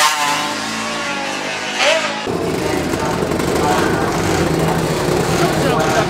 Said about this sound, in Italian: ho provato la moto di Giacomo Agostini